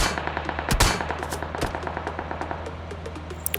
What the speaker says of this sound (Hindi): उतने में पीछे से मेरे ऊपर कोई गोली चलाता है